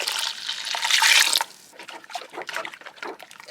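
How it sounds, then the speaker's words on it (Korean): Water from a one-litre measure poured into a cooking pot already holding seasoned marinade, a close, steady splashing gush for about a second and a half, then trickling and dripping as it finishes. "그리고 물 1리터를 넣어 줄게요."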